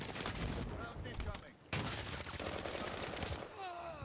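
Dense bursts of gunfire rattle through a first-person shooter game, with overlapping rapid shots and explosions filling the clip, loud and busy, with a brief drop in the middle.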